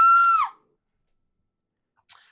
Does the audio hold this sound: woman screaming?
yes